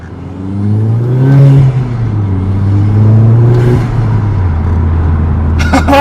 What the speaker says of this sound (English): let's go see what this car sounds like when we drive around